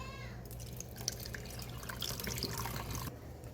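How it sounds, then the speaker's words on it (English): Food is rinsed under a running kitchen tap, a close steady splashing and trickling of water lasting a few seconds, with no talking. "So I just rinse these off really, really good."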